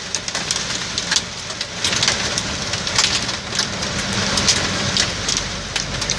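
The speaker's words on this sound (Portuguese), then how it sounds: "Tem umas pedras grandes aqui de granizo." Heavy hail pelts a truck on the Rodoanel in São Paulo during an intense storm, a dense, loud, continuous patter punctuated by sharp, scattered impacts, with no talking.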